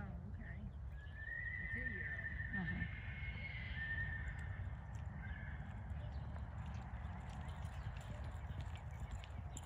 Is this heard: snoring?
no